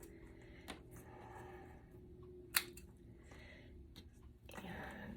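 Scissors snip the edges of a ribbon bow for a Dollar Tree Christmas ornament craft, giving a few sharp, close cuts spaced apart, one notably crisp, over a quiet room background.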